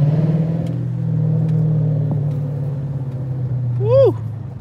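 A Chrysler 300 doing a burnout holds a steady low engine drone with spinning tires throughout, close and continuous, and a brief voice rises briefly near the end.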